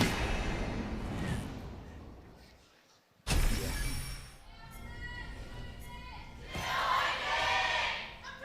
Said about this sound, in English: Samsung definitely won the fan cheer right there